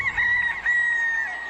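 A rooster crows once in a long, sustained call that stays fairly loud and steady before trailing off, heard alone in a night scene of a Hindi comedy show.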